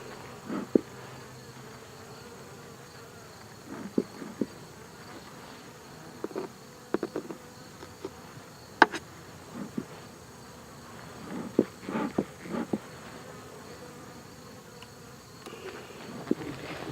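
Honeybees around a hive infested with hive beetles, a faint steady buzzing hum with scattered knocks and taps from handling the hive; no talking.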